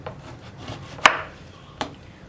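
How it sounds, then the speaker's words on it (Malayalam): A guava being cut into small pieces with a knife on a board, giving two distinct sharp chops about a second apart over a quiet background. "അപ്പോൾ നമുക്ക് പേരയ്ക്കയുടെ രണ്ട് സൈഡും കട്ട് ചെയ്ത് മാറ്റിയതിന് ശേഷം ചെറിയ പീസുകളായിട്ട് കട്ട് ചെയ്തിട്ട് മിക്സിയുടെ ജാറിലേക്ക് ഇടാം"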